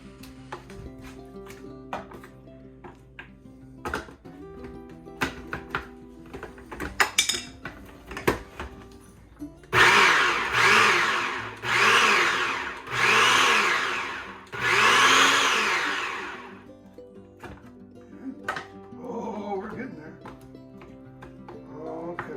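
Salsa ingredients chopped in a kitchen blender, four loud whirring pulses of a few seconds each, separated by brief pauses, with clinks and handling noises before and after and a person talking intermittently.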